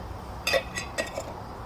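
A few light clinks and taps of a Sea to Summit collapsible cup being handled, brief and close, with quiet background between.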